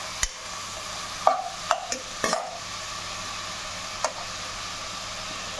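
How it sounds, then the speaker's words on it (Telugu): Cucumber curry is stirred in a pan over a steady, soft sizzle, with a few sharp scrapes and taps of the spoon against the metal, heard up close and alone. "శుభ్రంగా కలుపుతున్నానండి."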